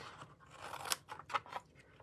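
Scissors snip and trim around fabric hexagon pieces, a few faint, crisp cuts close by, with quiet rustling between them and no talk.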